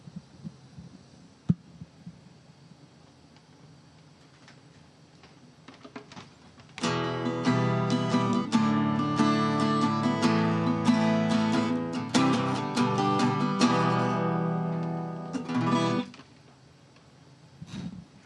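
Acoustic guitar played aboard the International Space Station, a short strummed passage of sustained chords entering after a quiet stretch, steady and fairly close, then ending abruptly into low hum.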